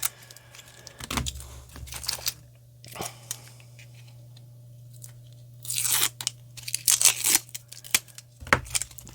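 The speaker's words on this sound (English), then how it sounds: "we always got to unravel a bunch of tape" Packing tape being peeled and torn off a mailed box of hockey cards, with crinkly bursts of tearing and crunching spaced across the stretch and quieter gaps between, fairly close.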